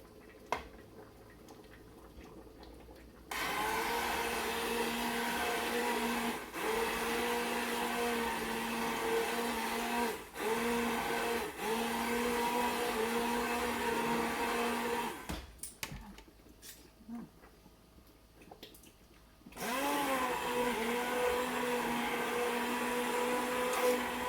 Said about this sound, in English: hand blender to kind of chop it up some more.